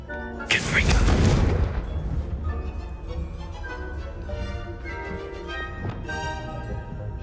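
Confringo blasting spell explosion in the video game Hogwarts Legacy, a sudden loud booming burst that rumbles for about a second, followed by quieter magical game sounds.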